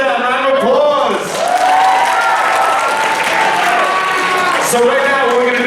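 A school talent-show audience at Hastings High School applauds loudly and steadily after a lightsaber showdown act, with a voice or music carrying over the dense clapping.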